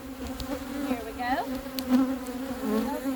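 Honeybees buzzing around an open hive during an inspection, a steady hum with single bees swooping close past the listener, fairly quiet.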